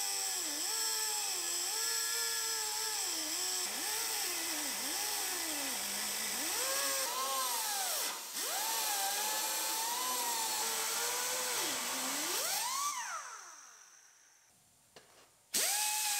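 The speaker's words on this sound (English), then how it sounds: "Now we'll cut the driver's side A-pillar" A power tool whines and bogs while cutting through the driver's side A-pillar of a rolled-over Chevrolet Silverado, loud and close, its pitch dipping and rising under load for several passes before winding down and stopping.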